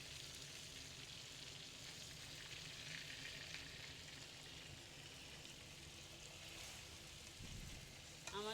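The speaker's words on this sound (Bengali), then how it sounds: "আপনারা দেখতে থাকেন, মাছটা আমি কীভাবে ভুনা করতেছি।" Tilapia pieces sizzle steadily in oil with a spiced masala, a dense continuous frying hiss with faint stirring scrapes, heard close and alone throughout.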